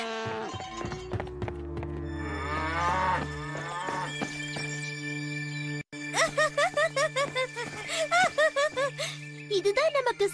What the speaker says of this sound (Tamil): என்ன இது, மாடுக்கு இப்படி சத்து போடுதுங்க?